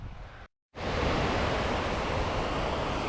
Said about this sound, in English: We've made it to this incredible waterfall